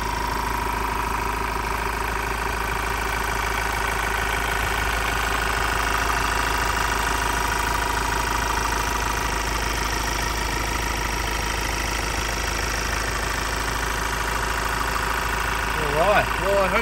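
A 2019 Ford Endura Titanium engine idles steadily with a constant low rumble and faint vibration, heard close in the engine bay and unbroken for the whole stretch.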